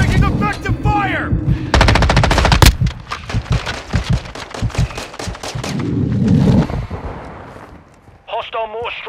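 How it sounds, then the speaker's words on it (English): Rapid automatic gunfire in Call of Duty: Modern Warfare rattles close and loud, with dense bursts and booming impacts, while voices shout over the shooting. "Taking effective fire!"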